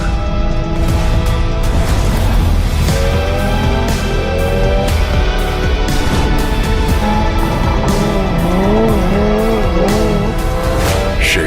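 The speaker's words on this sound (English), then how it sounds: "Ioniq 5N eN1 Cup Car." A Hyundai Ioniq 5 N eN1 Cup electric race car drives hard at a motorsport event, its rising and falling electric motor whine and tire squeals laid under loud continuous sound and music.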